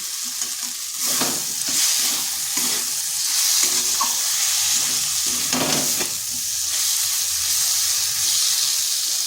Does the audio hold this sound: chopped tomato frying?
yes